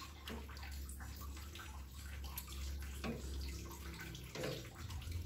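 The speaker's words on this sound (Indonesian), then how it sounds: "kita akan menuangkan ini, susu kental manisnya atau creamernya" Sweetened condensed milk or creamer is poured for a chocolate pudding cup, giving a steady, close liquid pour with faint splashy detail.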